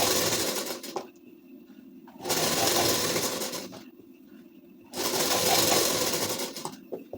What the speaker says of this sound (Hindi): ऐसे कपड़े को सेट करके फिर चलाएंगे बूट गले का सिलाई